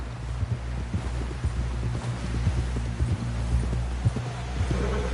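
A horse gallops in Red Dead Redemption 2, its hooves beating a quick, steady clip-clop rhythm close by over a low rumbling hum, with a brief bit of noise near the end.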